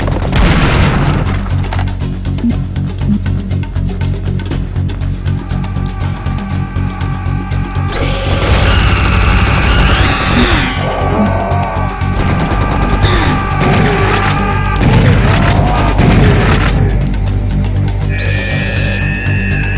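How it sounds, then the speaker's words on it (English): A minigun in Serious Sam HD fires in a loud, sustained, rapid stream that roars continuously for about twenty seconds, with tonal game effects layered over the barrage. "this minigun is the most accurate minigun in the whole world"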